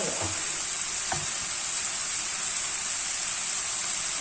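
Spiced minced meat and vegetables being mixed in a frying pan, seasoned with ras el-hanout, paprika, black pepper and hot chili, giving a steady close sizzle with a couple of soft utensil scrapes early on.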